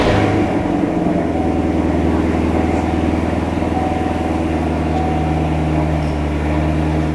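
A Chevrolet C7 Corvette engine runs steadily at idle just after an oil change, a smooth low hum with a faint mechanical rattle, close by and without talk.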